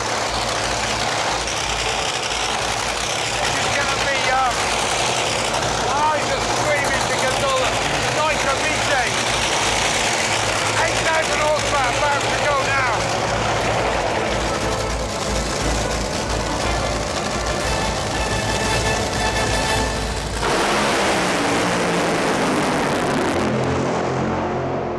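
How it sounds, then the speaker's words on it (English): A drag racing car warms up its tyres in Abu Dhabi: a loud, sustained, rough engine roar with whining and fluttering tones that runs for about twenty seconds and then cuts off abruptly, leaving a quieter rumble. Voices are mixed in. "That was Rod just warming up his tyres."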